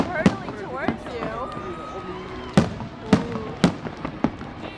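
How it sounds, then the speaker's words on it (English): Fireworks burst at an Olympic torch event, with several sharp, loud explosive cracks spaced irregularly, some in quick succession, while people talk and exclaim throughout. "Here comes the fireworks."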